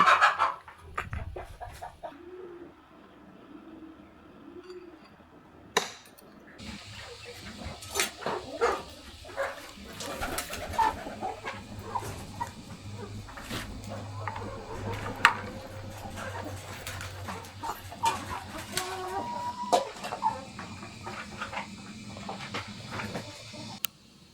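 Chickens cluck faintly and at a distance in a rural Vietnamese hometown yard, scattered over steady low background noise with occasional knocks and clatter.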